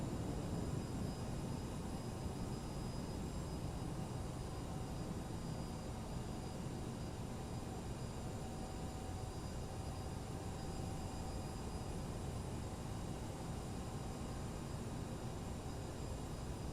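A CRJ 700 regional jet taxis heavily loaded in Microsoft Flight Simulator, a steady, even engine roar with hiss that holds unchanged throughout, no voices over it.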